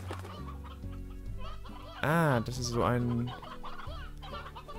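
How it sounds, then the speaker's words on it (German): A hen clucks in the video game Slime Rancher, with short rising-falling squawks breaking out loudly midway over a background of game music, while someone speaks German close by. "so eine Henne, die keine Eier mehr legt."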